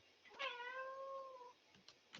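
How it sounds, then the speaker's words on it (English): A house cat gives one clear, drawn-out meow lasting about a second, close and fairly loud over a quiet room background, followed by faint small sounds. "I don't know if you heard my cat or not."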